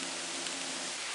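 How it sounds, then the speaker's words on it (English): Steady rain falls outdoors near a sawmill site in white pine country, a soft continuous hiss of drops close by, alone with no talk, right after sunshine gave way to a fresh shower. "it's like 5 minutes after it was just sunny out and it's raining again"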